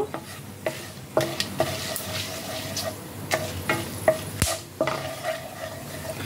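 Whole black peppercorns temper in hot oil, a close sizzle with crisp pops and clinks as a spoon stirs them around the pan in quick strokes.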